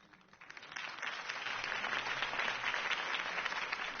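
In a Batman video game, a crowd claps after a campaign speech, the applause rising quickly from quiet to a steady, dense wash and holding there, with no talking over it.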